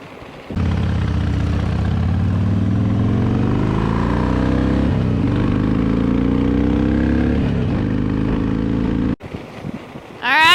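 A motorcycle rides north on Highway 101 toward Buellton on California's Central Coast, its steady engine drone shifting in pitch under heavy wind rush. The drone drops out abruptly near the end, leaving brief rustling and buffeting.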